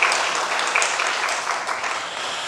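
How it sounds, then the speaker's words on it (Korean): A church congregation applauding to encourage the choir during a Sunday worship service, a dense, steady wash of many hands clapping at once that fills the whole moment without a break. "우리 박수로 한번 격려하십시다"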